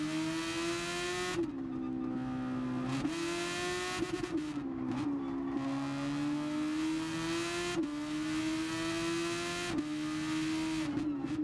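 Race car engines in Gran Turismo Sport hold a loud, continuous high-pitched drone that rises steadily and then dips sharply at each gear shift, repeating across the whole stretch with no talk.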